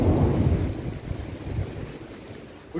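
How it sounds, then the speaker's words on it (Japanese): Deep thunder rumbles under wind and rain during a night thunderstorm over the sea, loudest at first and then fading into a softer, steady wash. "雷が、光ったり落ちたりしてますね。"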